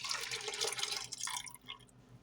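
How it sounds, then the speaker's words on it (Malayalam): Coconut milk poured into a pot of Kerala-style dhal and mango curry, a steady close liquid pour and splash that tails off after about a second and a half, with no talking. "1 ഗ്ലാസ് തേങ്ങാപ്പാൽ കൂടി ഇതിലോട്ട് ചേർത്ത് കൊടുക്കാം."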